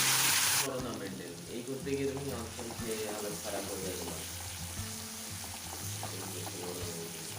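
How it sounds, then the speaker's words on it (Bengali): Onions and spices fry for katla fish kalia, a steady sizzle that runs on while the spoon scrapes and taps now and then, with voices faint in the background. "আর এখানে আমি মশলাটাকেও ভালোভাবে কষিয়ে নিচ্ছি।"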